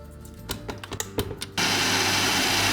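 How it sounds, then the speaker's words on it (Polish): Egg whites with a pinch of salt being whipped for gluten-free waffles: a few sharp clicks and knocks, then an electric mixer suddenly starts with a loud, steady whirring drone. "Po 30 minutach ubijamy białka ze szczyptą soli."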